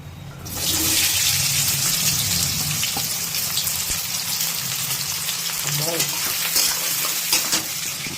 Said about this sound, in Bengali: পেঁয়াজগুলোকে এবারে হালকা ব্রাউন করে করে ভেজে নিতে হবে